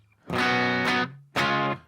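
An electric guitar runs through a Catalinbread Dirty Little Secret overdrive pedal into an amp emulation set for a Bogner Ecstasy green channel. Two loud, sustained distorted chords ring out with a short pause between them.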